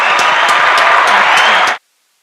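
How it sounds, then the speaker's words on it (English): Dense, steady applause from a studio audience at a live radio show, a loud unbroken wash of clapping that runs for nearly two seconds and then cuts off abruptly into silence. "Let's give her a round of applause"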